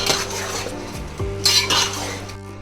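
Chicken pieces being stirred with salt and turmeric in a metal pot, giving scraping, clinking spoon-against-pot sounds with a soft sizzle beneath, close and steady throughout, with no talking.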